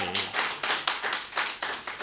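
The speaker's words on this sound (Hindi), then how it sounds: "कविता समाप्त हो गई है, तालियां बजाइए" Audience at a Hindi poetry gathering (kavi sammelan) claps in a steady rhythm of about eight distinct claps in two seconds, moderately loud and near, with no talk over it.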